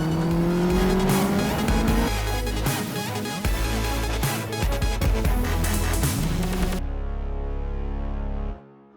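Legends race cars lapping the Trac Mon circuit on Anglesey, engines roaring loud and close with rising and falling revs, brief tire squeal, before the sound cuts off abruptly near the end.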